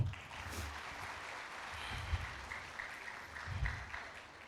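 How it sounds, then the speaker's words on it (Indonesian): An audience at a Tabligh Akbar religious gathering claps together, producing a sustained wash of applause with a few louder bursts, moderately distant and free of speech. "Silakan tepuk tangan dulu."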